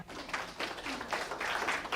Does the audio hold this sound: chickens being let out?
no